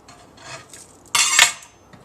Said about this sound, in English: You're going to chop it like you would celery.